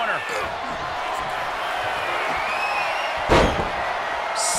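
A pro wrestling body slam lands on the ring mat during a KWA show: one loud, sharp thud about three seconds in, rising over steady crowd noise and a commentator talking.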